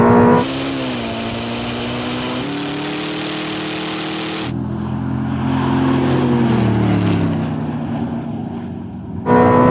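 A Ferrari or Koenigsegg supercar accelerating hard during a GPS top-speed run, a loud sustained engine drone that climbs steadily in pitch, drops sharply after a gear change and then builds again.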